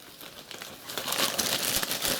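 A plastic bag crinkles and rustles close by during the unboxing of a wizard chess set, in short uneven bursts with no talking.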